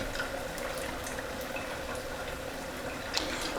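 Battered southern fried chicken deep fries in a basket of hot oil, making a continuous soft bubbling hiss with a few faint pops and no talking.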